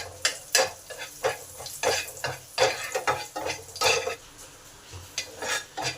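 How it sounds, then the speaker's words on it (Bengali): Black cumin, green chilli and chopped garlic fry in hot oil, with a soft sizzle under repeated scraping and stirring of a spoon against the pan in irregular strokes, fairly close and with no talk. "তেল গরম হলে তেলে দিলাম 1/2 চামচ কালো জিরে, কিছুটা কাঁচা লঙ্কা আর রসুন কুচি। এইগুলোকে ভালো করে ভেজে নেব।"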